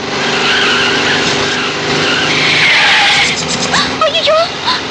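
A car with failed brakes skids in a film scene, a loud, sustained screech of tires and engine roar that wavers into squealing slides near the end, with voices faintly present.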